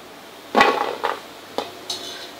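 Golden fried shankarpali lifted out of hot oil with a metal utensil and held to drain, giving a few brief clinks and scrapes against the pan, one louder clatter followed by lighter taps, close and alone without talk.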